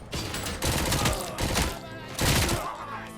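Heavy gunfire from the shooter game Robocop: Rogue City, loud, clustered bursts of shots in quick succession, with a few short pauses between volleys.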